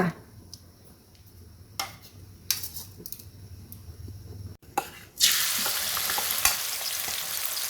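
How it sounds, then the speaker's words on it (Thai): Quiet kitchen clatter and a few taps, then a sudden loud sizzle as chili and garlic hit hot oil in a wok, hissing steadily close by with occasional scraping. "ใส่พริกกับกระเทียมจ้า ผัดให้หอม"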